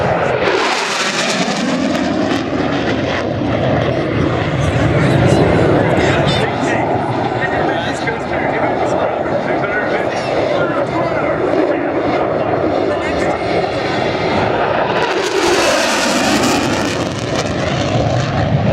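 An F-16 Fighting Falcon fighter jet roars past at an airshow, a loud continuous engine rush that swells and fades, with an announcer talking over it throughout.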